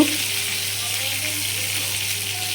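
Spice paste sizzles steadily in hot oil for a pointed gourd curry made with yogurt, a dense unbroken frying hiss with a faint low hum beneath it.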